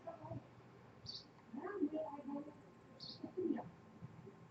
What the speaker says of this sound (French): cette famille de colombidés, la tourterelle, un mâle